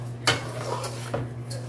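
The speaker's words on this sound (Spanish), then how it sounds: "Ahora sí, lo meneamos bastante" A spoon scrapes and clanks against a pot while Mexican rice and meatballs are stirred, sharp metallic knocks at irregular intervals over a low steady hum.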